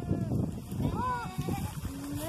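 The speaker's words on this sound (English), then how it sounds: "Oh, here goes a goat." A goat bleats on a farm with livestock nearby, a brief wavering call rising out of chatter as several people talk close by.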